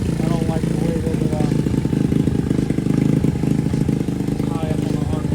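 A Boom Vader Grom-clone motorcycle engine, fitted with a new carburetor, idles steadily and close by with a busy, even chatter throughout, and a voice talks over it.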